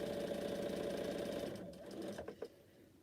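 A sewing machine stitches quilt blocks indoors with a steady close hum and rapid needle rhythm for over a second, then slows and stops with a few soft clicks.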